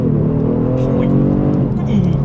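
A 2020 Genesis G70 luxury sedan pulls hard under acceleration with paddle shifters, its engine drone rising steadily and loud from inside the cabin while a voice exclaims over it.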